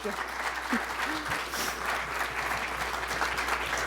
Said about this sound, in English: Another round of applause for the Governor